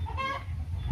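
Farm hens clucking close by, a steady run of soft throaty calls across the short moment, with no talk over them.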